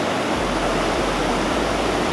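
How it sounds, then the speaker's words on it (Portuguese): A large waterfall roars in a steady, loud, broadband wash of falling water that continues unbroken and fills the short moment, with no voices. "Olha o tamanho da cachoeira."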